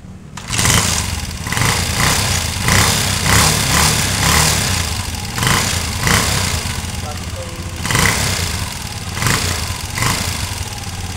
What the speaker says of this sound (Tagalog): Yan, pandarin natin yung motor.